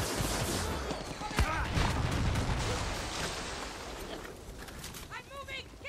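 Rapid gunfire and explosive bursts in the Far Cry 6 video game, loud and continuous with scattered sharp reports, while a player shouts over the din.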